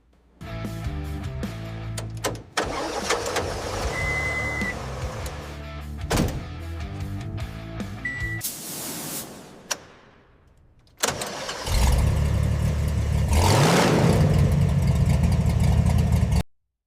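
A restored monster truck engine cranks, catches and runs, rumbling loudly up close. A brief whine cuts in, the engine drops to near silence, then it fires again and roars steadily.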